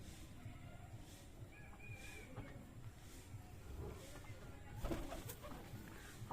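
Pigeons at a pigeon farm coo softly in low, throaty murmurs over a steady background hum, with faint voices nearby.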